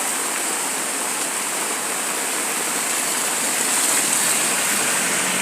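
Floodwater rushes loudly and continuously at Melattur, a dense broadband roar like a waterfall that swells slightly toward the end, with no voices over it.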